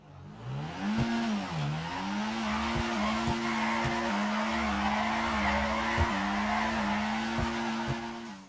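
A car drifting in the video game GTA 5, with a sustained tire squeal that wavers in pitch over a steady engine drone. It is loud and continuous, with a few sharp clicks.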